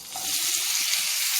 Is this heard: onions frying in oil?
yes